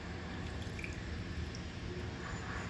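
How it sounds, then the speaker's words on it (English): Warm milk poured into chicken coated in masala, a continuous close liquid pour with wet dripping and squishing texture, steady throughout and without talk. "Once the chicken is nicely coated with this masala, we will add some warm milk."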